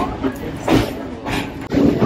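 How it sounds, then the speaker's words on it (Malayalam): A coal train running in Australia gives a steady, close rumble that swells and fades in rhythmic surges, much like wheels clacking over rail joints. "ഇത് ട്രെയിനിന്റെ ഒച്ച കേട്ടോ?"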